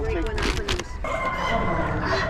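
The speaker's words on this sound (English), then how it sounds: "Have 2 Easter egger type hens here, and then a buff" Easter egger type hens at an Amish animal auction, giving clucks and a crow-like call amid busy barn noise and background chatter, close and fairly loud throughout.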